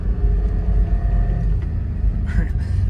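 A 1999 Toyota 4Runner driving in 4x4 at low speed, its engine and drivetrain giving a steady close rumble with a faint thin whine layered on top, plus a short clatter near the end.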